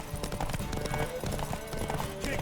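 A horse gallops in a race in The Witcher 3, with rapid, rhythmic hoofbeats over game music and background sound effects.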